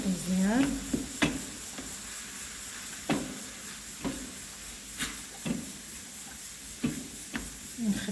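Sliced chicken breast stirred in a hot pan, a constant close sizzle broken by regular sharp scrapes and taps of the utensil against the pan roughly every second.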